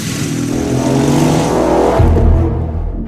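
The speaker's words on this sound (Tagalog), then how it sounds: "Kusuban ang dagan sa motor. Pakusgipod ang pagpadagan." A motorcycle engine revving hard and picking up speed, loud and close, with the pitch climbing before a deeper surge near the end.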